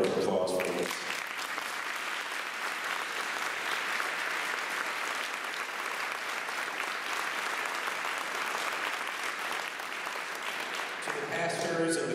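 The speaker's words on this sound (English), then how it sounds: "Can we have a round of applause for this?" An audience at a church community retirement celebration breaks into sustained applause, a dense, steady roar of many hands clapping that runs for over ten seconds, with speech briefly audible at the start and end.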